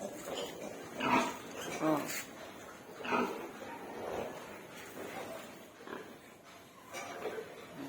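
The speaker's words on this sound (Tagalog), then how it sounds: "Ito yung mga aso." Dogs snuffle, whine and make low grunting noises nearby, in short irregular bursts with some shuffling between them.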